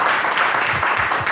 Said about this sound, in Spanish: iba a pedir un aplauso para Nelson.